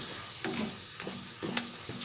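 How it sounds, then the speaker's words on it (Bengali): Onion paste frying in a pan, with a steady close sizzle and a spoon scraping and stirring through it in a few distinct strokes, with no voices. "পেঁয়াজ বাটাটা একটু নাড়াচাড়া করব"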